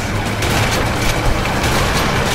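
Dense gunfire from the video game A Way Out during a police chase, a continuous loud fusillade of overlapping shots and booms lasting throughout with no pauses.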